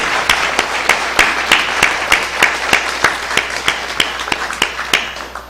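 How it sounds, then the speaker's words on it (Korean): A church congregation at a Sunday worship service applauds steadily for several seconds, with many hands clapping at once and sharp individual claps standing out from the sustained, fairly loud crowd sound. "박수하겠습니다."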